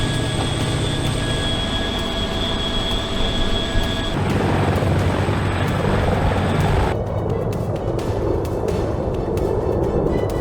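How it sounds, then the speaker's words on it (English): A helicopter's steady rotor roar fills the whole stretch, loud and close, with a turbine whine that shifts in pitch as it works up to lift off. "Moments later, the helicopter lifted off, disappearing toward land."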